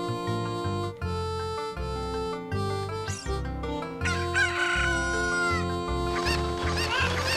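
Angry Cuckoo chickens from The Legend of Zelda: Ocarina of Time crowing and clucking over steady looping music, several birds squawking excitedly in a noisy, agitated chorus.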